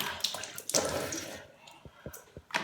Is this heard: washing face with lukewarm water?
yes